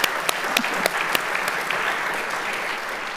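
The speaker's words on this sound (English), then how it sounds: "I'll clap for that." Audience at a campus conversation event breaks into applause, a brief burst of dense clapping that stays fairly even before tapering slightly.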